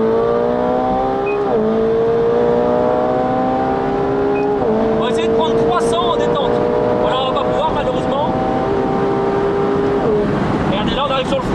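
A McLaren 720S engine screams upward through several gear changes on the Autobahn toward top speed, each shift briefly dropping the pitch before it climbs again, loud and close.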